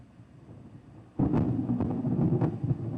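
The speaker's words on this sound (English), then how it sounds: "I know you guys can hear that thunder." Thunder from a Texas thunderstorm: after a quiet start, a sudden loud, deep rumble breaks in and rolls on steadily with surging peaks, with no voices over it.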